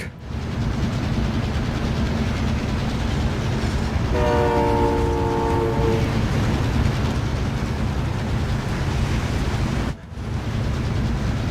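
A train in the Warzone video game rumbles past close and loud with steady rolling clatter, and its horn sounds in one sustained blast of about two seconds partway through, with no talk over it.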